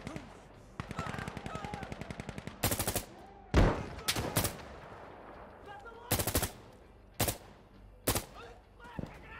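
Gunfire in the video game Insurgency Sandstorm: a long rapid automatic burst followed by several loud separate shots and short bursts, close and sharp, with a voice talking at times.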